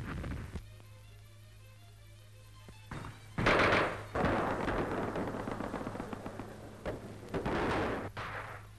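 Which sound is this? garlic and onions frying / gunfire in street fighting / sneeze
gunfire in street fighting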